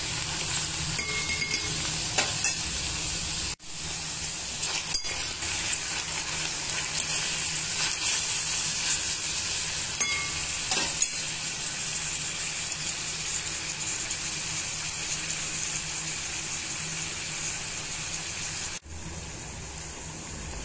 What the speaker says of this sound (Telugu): ఇవన్నీ టమాటో ముక్కల్ని, మామిడికాయ ముక్కలు యాడ్ చేసుకొని ఇవన్నీ బాగా మిక్స్ చేసుకొని ఉడికించుకోవాలి